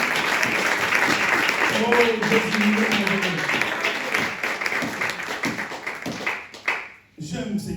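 A church congregation claps and cheers in praise, a loud sustained burst of mixed applause and voices that fades and cuts off near the end.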